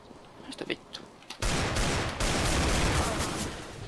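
Desert Eagle pistol fire in the shooter game CS:GO: after a few faint clicks and small sounds, a loud burst of gunfire erupts and continues as a sustained barrage of shots and noise, close and harsh.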